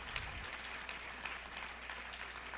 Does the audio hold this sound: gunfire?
no